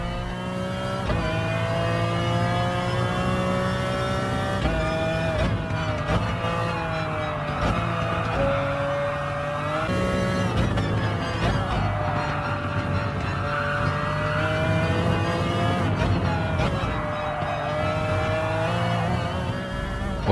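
A Gulf-liveried McLaren F1 GTR race car racing at the Red Bull Ring in Gran Turismo Sport, its engine a steady loud howl that rises and falls through upshifts and downshifts, with no talking.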